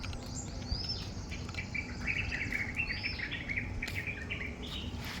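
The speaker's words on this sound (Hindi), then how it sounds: "चिड़िया बोलती हुई सुन रही हैं आपको" Morning birdsong in the green grounds of a large beach resort, with several birds chirping and trilling steadily at a moderate distance over a low, constant background hiss. No one speaks.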